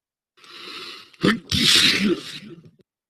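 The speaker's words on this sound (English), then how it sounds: "I sneezed a great sneeze" A single loud, close sneeze with a sharp intake of breath before it, followed by a brief exhale, with silence on either side.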